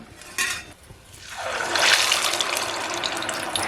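Chicken vade batter slides into hot oil in a pan over a wood-fired chulha stove. A quiet start gives way to a loud, steady hissing sizzle that builds and holds.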